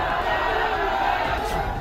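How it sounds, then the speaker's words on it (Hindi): A large crowd gathered on a street in Saharanpur chants slogans, a dense, steady roar of many voices close by and without a pause. "जमा हुई भीड़ ने नारेबाजी की,"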